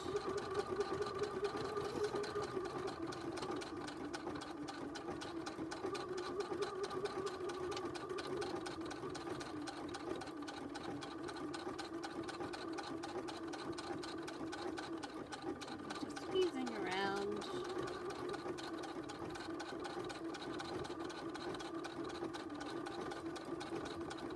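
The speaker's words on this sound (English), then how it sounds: "I'm just going to stitch around." Sewing machine running steadily as it stitches around a zipper purse, a continuous close mechanical hum with a brief pitch sweep midway, and no speech over it.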